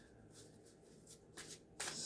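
A tarot deck is shuffled in quick riffling bursts that grow louder toward the end, close and fairly quiet, with no voices over it.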